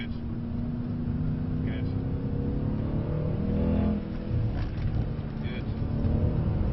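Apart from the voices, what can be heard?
Mercedes C63s accelerating on track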